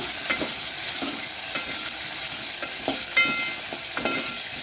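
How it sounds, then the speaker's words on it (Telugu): Dried red chillies and cumin seeds frying in oil in a pan for a beetroot chutney, a steady close sizzle with scraping stirs of a spoon recurring throughout, no voices. "ఇలా వేపుకుంటే చాలు, ఇంకా కొంచెం వేపుకోవాలి."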